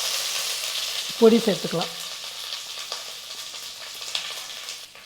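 Curry leaves and mustard seeds with two dried red chillies crackle in hot oil as a tempering for a Tamil kulambu. A steady, close sizzling hiss with scattered pops runs throughout, and a voice speaks briefly near the start.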